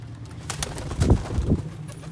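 Pigeons coo softly nearby, with a few low, throaty calls rising and falling over a quiet background.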